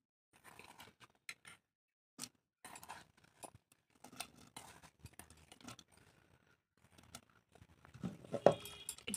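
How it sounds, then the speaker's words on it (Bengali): A knife chops potatoes for boiling in a home kitchen, making sparse, soft, irregular taps and light scraping that are quiet and close, with no talking. "এই যে আমি আলু কাটছি সিদ্ধতে দেবো বলে"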